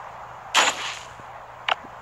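Two sharp bursts of shotgun fire from the video game Last Day On Earth: Survival stand out clearly, a loud blast followed about a second later by a shorter, quieter report, alone without speech.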